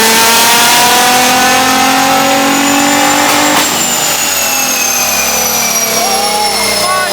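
Nissan GT-R engine revving hard through a dyno pull, a loud continuous roar climbing steadily in pitch for several seconds before the throttle lifts and the note drops away.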